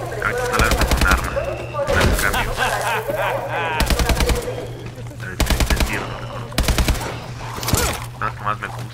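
Loud bursts of automatic weapon fire in Call of Duty: Advanced Warfare zombie mode, arriving in repeated clusters with pauses between, while someone talks excitedly over the shooting.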